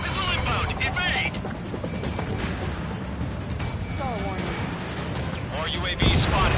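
Missile launches and explosions in the jet combat game Ace Combat 7, a dense roar of jet engine and blasts running throughout under radio chatter, with a louder burst near the end.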